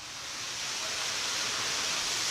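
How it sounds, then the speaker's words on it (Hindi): Water gushes from a burst pipe inside a hospital quarantine centre at a medical college, pouring down like a waterfall in a broad, steady hiss that swells slightly at the start and then stays constant. "क्वारंटीन सेंटर में कैसे झरना बन गया पानी का, वो आप देखिए"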